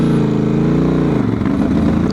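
Honda Transalp 750 motorcycle accelerating hard with an ECU remap, rear wheel spinning, its engine loud and close, with a droning roar that dips and wavers near the end.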